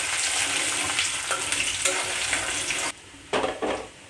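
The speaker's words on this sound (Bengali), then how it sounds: "তেলের মধ্যে আমি এখন নিয়ে নিচ্ছি রসুন কুচি।" Chopped garlic sputters in hot oil, a loud close sizzle that cuts off sharply, then returns in short bursts as the pan is stirred.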